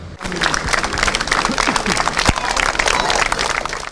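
Buckwheat-region crowd greets returning paratroopers outside a former regiment base with dense, continuous clapping and cheering at close range, steady for the full length with a voice briefly rising over the din.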